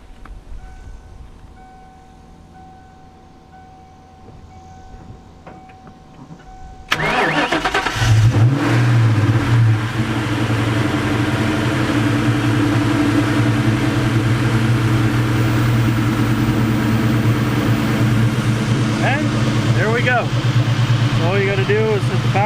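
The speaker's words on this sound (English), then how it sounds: "So let's go ahead and try and start the car." A car engine cranks and catches after a jump start from a Noco jump box, following a quiet stretch, then settles into a loud, steady run close by.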